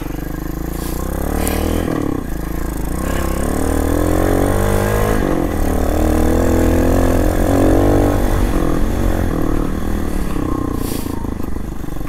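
A Yamaha XT250 motorcycle engine revs hard nearby, rising and falling in several loud sweeping pulls over a steady rumbling idle, with no talking.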